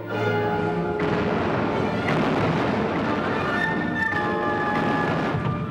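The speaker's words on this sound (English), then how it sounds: "With the dawn came bombardment from the air and from the warships lying off the coast." Aerial and naval bombardment of the coast from aircraft and offshore warships at the dawn of the Allied invasion of northwest Europe: a continuous loud, heavy rumble with several sharper booming bursts throughout.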